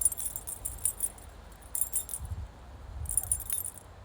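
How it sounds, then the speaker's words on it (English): A keyring loaded with several keys jangles in bursts of bright metallic clinks, with short pauses between shakes, close and moderately loud over a low background rumble. "I'm jiggling my keys at a baby, aren't I?"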